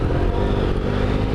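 A motorcycle engine revs on the road with a very responsive, on-off throttle, producing a loud, rough, continuous engine roar throughout the short stretch.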